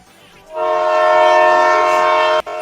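A train passes close by, its horn blaring in one loud, steady, sustained blast for about two seconds before cutting off abruptly.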